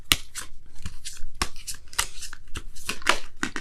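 Tarot or oracle cards being shuffled in a quiet room, a run of crisp riffling bursts and soft slaps of card stock repeating close to the listener, with no talking.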